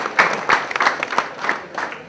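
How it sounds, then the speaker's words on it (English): An audience applauds students with a brief, dense burst of clapping, close and fairly loud, lasting only a couple of seconds. "So big round of applause for the students from Jaipur."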